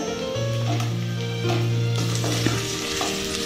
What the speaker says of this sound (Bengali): এবার এর মধ্যে দিয়ে দিচ্ছি কেটে রাখা আলুগুলো।